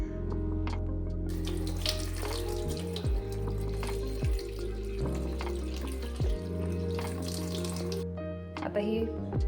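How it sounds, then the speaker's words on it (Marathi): Tap water runs steadily over sprouted moth beans held in a sieve, splashing and gurgling with brief interruptions as the flow shifts, close up in a kitchen. "आता ही कॉक खाली एकदा छान अशी धुवून घेते"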